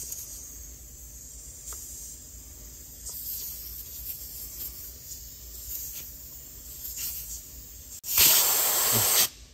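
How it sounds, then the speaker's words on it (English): Air hisses out of an old, stiff tire on a Ford Bronco II once the valve core is unscrewed with a removal tool. A loud, steady rush bursts in near the end after a quiet stretch of background noise. "This, of course, will let all the air out of your tire."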